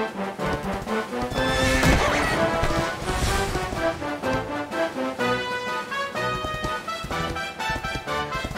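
In the video game Dragon Quest XI, a horse neighs loudly over steady, rhythmic galloping hoofbeats, with a busy musical backdrop throughout.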